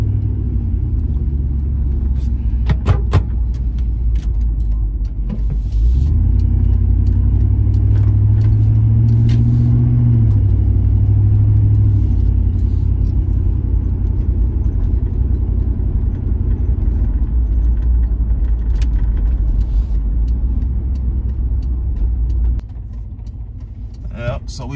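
A pickup truck cruises and swings through a hard left turn on a road, giving a loud, steady low engine rumble heard from inside the cab with a rise mid-turn, while someone talks over it.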